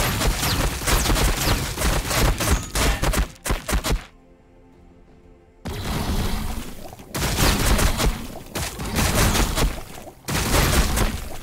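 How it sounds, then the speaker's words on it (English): Heavy gunfire rattles in Warhammer 40000 Battlesector multiplayer, loud dense bursts of automatic fire that break off into a short quiet gap and then resume in sustained volleys. "Taking fire!"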